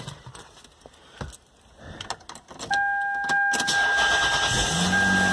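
A car with a misfire and check engine light is started on a backup battery: key clicks and dash chimes, then the starter cranks and the engine catches into a steady, loud idle.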